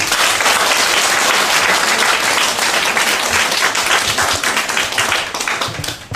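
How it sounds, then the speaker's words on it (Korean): A room of colleagues at a monthly staff general meeting applauds fellow members, giving loud, dense clapping that runs steadily for several seconds before tapering slightly at the end. "옆에 우리 동료들 보고 박수 한번 보내주시기 바랍니다"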